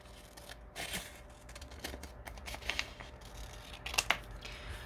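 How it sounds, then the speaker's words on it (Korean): Scissors snip through paper to cut out triangles for a grade 5 maths lesson, a few quiet close crisp snips and rustles spaced unevenly over a few seconds. "한번 잘라 볼게요"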